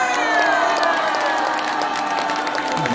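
A crowd at a Korean YouTube forum event in Gwanghwamun, honoring a pastor, cheers and applauds loudly and steadily with whoops and shouts, a dense continuous roar throughout.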